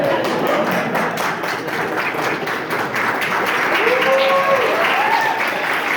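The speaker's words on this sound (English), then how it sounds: "Let's give them a nice round of applause." Wedding guests applaud after a best man's speech with dense, loud, continuous clapping from a crowd nearby, and some voices and cheers mixed in.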